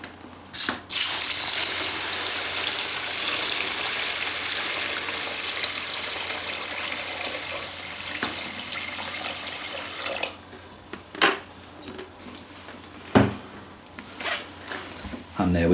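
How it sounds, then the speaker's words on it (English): Tap water gushes steadily into a container of groats prepared as carp fishing bait, a loud continuous splashing rush that cuts off midway, followed by sparse knocks and short scraping handling sounds. "so we just need to get some water on it and then leave it for 24 hours"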